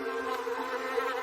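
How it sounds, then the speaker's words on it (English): Bees forage in a garden among flowers, a steady close buzzing drone that holds without a break and has no speech over it. "bees foraging for food in our gardens pollinate our flowers and trees"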